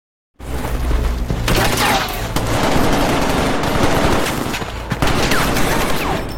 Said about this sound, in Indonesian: Di tengah-tengah baku tembak yang berlangsung sengit